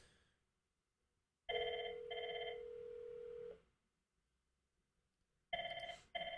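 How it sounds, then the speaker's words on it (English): Telephone ringing: a bright electronic ring in two short bursts and then a longer sustained tone, a pause of silence, then the ring starting again, clear and close. "you hear that phone ringing"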